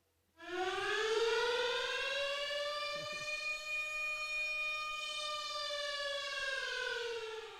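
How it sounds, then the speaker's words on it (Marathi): A loud siren rises quickly and holds a steady wailing tone for several seconds at an outdoor cricket match, signalling the start of the 50-50 challenge over in a Champion Premier League tournament game. "आणि तो सायरन देखील वाजेल"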